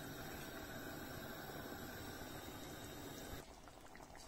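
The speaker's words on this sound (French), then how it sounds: "Je vais laisser cuire 10 minutes les tomates" Tomatoes for bolognese sauce simmer in a pot, giving a steady, even bubbling hiss that drops slightly in level toward the end.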